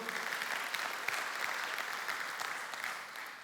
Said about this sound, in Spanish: Vamos a darle un fuerte aplauso por eso.